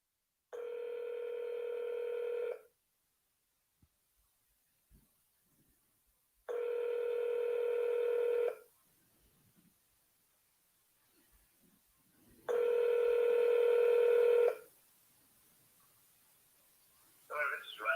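Telephone ringback tones on an outgoing call, three long steady beeps spaced evenly apart with silence between, fairly quiet, followed by a brief voice at the end.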